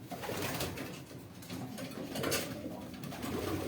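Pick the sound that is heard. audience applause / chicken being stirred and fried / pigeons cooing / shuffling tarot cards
pigeons cooing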